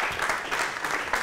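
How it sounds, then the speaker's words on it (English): Audience applause after a talk on discussing a venture, with dense, steady clapping from a room of people, continuous and fairly even, alone without speech. "You don't have to clap."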